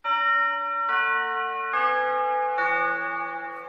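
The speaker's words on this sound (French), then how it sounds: "Le Westminster Quarters, le son propagé par la cloche, peut s'étendre jusqu'à un rayon de 6 km." Big Ben's bells in London chime four successive tones of the Westminster Quarters, each strike ringing out with long sustained overtones, loud and clear with no voices.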